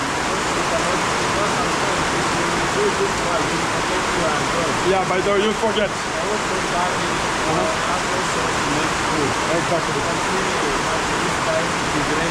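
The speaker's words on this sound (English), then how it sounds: "It's raining, yeah." Steady rain falls throughout as a dense, even hiss, with people talking over it for a short stretch.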